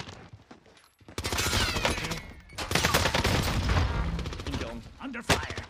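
Rapid gunfire in a video game, dense bursts of shots that start after a quiet second and run almost unbroken to the end, loud and close, with a voice briefly mixed in.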